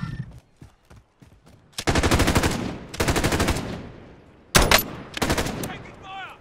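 Rapid automatic gunfire in Call of Duty Modern Warfare, several loud sustained bursts separated by short pauses, with faint tapping and brief sounds between volleys.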